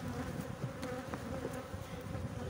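Honey bees buzz around an Arabic beekeeper's hive, a faint, steady drone that hums continuously with no voices over it.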